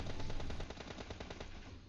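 Rapid automatic gunfire from the Free Fire mobile battle royale game, a dense burst of loud repeated shots continuing throughout with game sound effects layered underneath.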